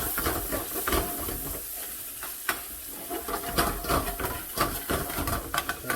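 Chilli garlic chicken spices sizzle and fry in a pan after a splash of water, with steady stirring scrapes and hiss running throughout, close and fairly loud.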